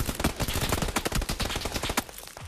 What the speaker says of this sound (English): Shots to the left.